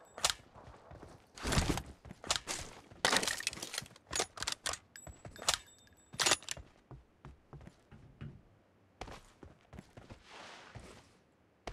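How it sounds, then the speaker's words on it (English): Rapid clicks, clacks and metallic snaps of a weapon being reloaded in PUBG Mobile during a team deathmatch, sharp and close in irregular bursts. "Reloading!"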